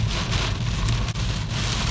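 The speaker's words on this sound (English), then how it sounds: "rain's coming in my window" Heavy rain pours down in a sudden downpour, a loud, dense, continuous roar of drops drumming close by with no pauses.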